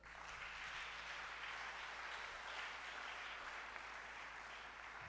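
Wedding congregation applauding inside a church during a nuptial blessing, a steady, dense wash of clapping that holds evenly throughout with no voices standing out.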